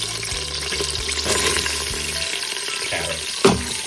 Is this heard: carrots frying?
yes